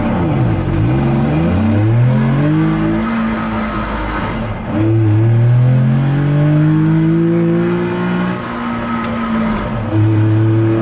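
DKW Vemaguete two-stroke car engine revving hard while driving, pitch climbing through each gear then dropping at shifts in repeated sweeps, loud and close, no talking.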